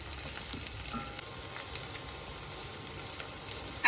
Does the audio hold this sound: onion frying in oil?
yes